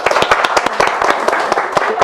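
Studio audience on a Korean televised debate program clapping briefly, a short burst of distinct, fairly close hand claps in a loose rhythm lasting about two seconds.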